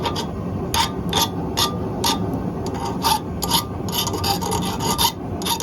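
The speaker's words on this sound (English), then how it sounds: "I'm just gonna clean up some of these edges, knock some of this slag off" A file rasps against forged metal edges, knocking off slag in repeated, fairly regular strokes, close and scratchy, with no voices.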